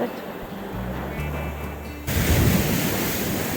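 Rough, storm-driven sea at Odesa on a cloudy day, a steady broad wash of surf that swells louder partway through, with wind buffeting close to the microphone.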